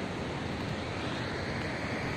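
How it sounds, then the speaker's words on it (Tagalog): Continuous broadband rush of big surf at Cabugao Island in the Philippines, steady and fairly quiet, with wind noise on the microphone and no voices. "Ang laki ng alon"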